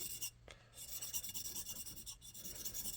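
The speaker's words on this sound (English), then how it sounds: "So we'll take the burr off on the 1000 grit." A blade edge rubbed across a 1000 grit sharpening stone to remove the burr, a quiet rasping scrape in short repeated strokes, heard close up and alone.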